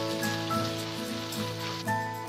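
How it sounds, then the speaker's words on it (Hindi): Asafoetida and cumin sizzling in hot oil for dhaba-style dum aloo, a steady close crackle with a faint stir, no voices. "अब जैसे ही तेल गर्म होगा हम इसमें थोड़ी सी हींग, जीरा डाल देंगे और उसे भूनेंगे।"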